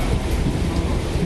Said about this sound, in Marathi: मुंब्रा-दिवा या परिसरामध्ये सकाळपासून मुसळधार पाऊस